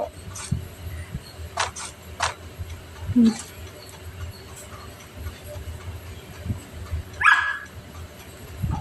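A dog barks several times in short, separate bursts at a moderate distance, over a constant background hum of noise.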